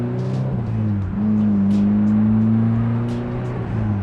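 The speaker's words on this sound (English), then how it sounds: "It's super rich accelerating, which is a good thing." A turbocharged Mazda Miata on an upgraded high-pressure fuel system accelerates under load, running rich, its engine note a steady loud drone with a slowly rising pitch across the whole stretch, heard from close by.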